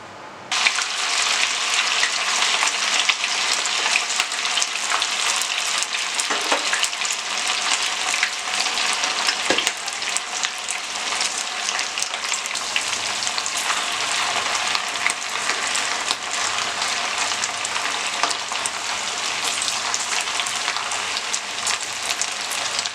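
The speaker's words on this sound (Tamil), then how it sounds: "இது வந்து நம்ம இப்போ எண்ணெயில் ஃப்ரை பண்ணிக்க போகிறோம்" Marinated cauliflower pieces deep-frying in hot oil for Gobi Manchurian, a loud steady crackling sizzle close by with occasional pops and stirring clinks.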